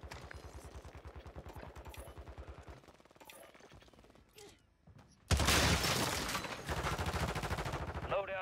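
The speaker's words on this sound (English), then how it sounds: "He started shooting." Rapid automatic gunfire from a Vaznev 9K in Warzone 3, with single shots and short bursts early, then a sustained loud burst of fire crowding the back half alongside shattering impacts.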